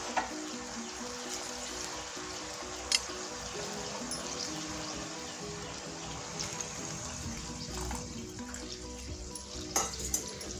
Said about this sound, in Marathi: आपण त्यात थोडं पाणी टाकायचं आहे